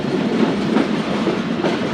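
Passenger train of the Zakariya Express rolling along rails between Multan and Karachi, a steady close rumble with rhythmic clickety-clack from the wheels, continuous and fairly loud throughout.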